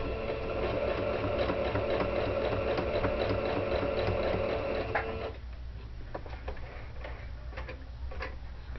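A sewing machine stitches bias binding close up, running in a steady fast whirring patter for about five seconds before stopping, after which faint handling clicks and rustles remain.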